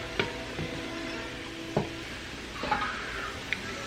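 Pork cooking in a pan on the stove, a soft steady sizzle under a few sharp clacks of a utensil against the pan as the meat is stirred, close and fairly quiet.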